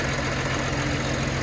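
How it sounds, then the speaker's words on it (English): A 1995 Caterpillar Challenger 75C tractor with a 10 litre, 325 horsepower Cat engine idles steadily, its low diesel rumble and knock holding constant and close throughout. "1995 Challenger 75C, 10 litre cat engine, 325 horsepower"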